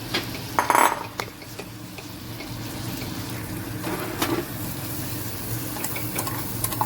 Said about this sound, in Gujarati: તો હવે બટરમાં આપણે આ બધું શેકવાનું છે મશરૂમ અને બેબીકોર્ન